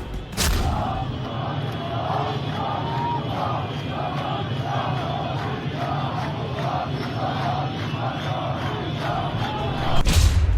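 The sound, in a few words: crowd of protesters chanting slogans in Tehran streets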